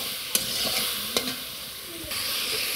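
Cauliflower and potatoes frying in oil with turmeric and salt, a loud continuous sizzle close up with a few sharp spatula taps and scrapes against the pan.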